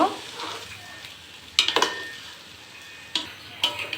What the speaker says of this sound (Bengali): চালটা আমি অ্যাড করে দিয়েছি। এখন এটা 2 মিনিট ভেজে নিব